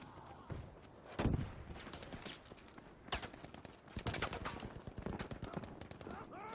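Gunfire and scattered shots crackle through a Battlefield V match, bursts of rapid shooting mixed with single cracks, moderately loud over a busy battlefield background with occasional faint voices.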